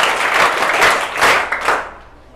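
Children in a classroom applaud a schoolgirl with a short, loud burst of clapping that swells twice and then fades away quickly.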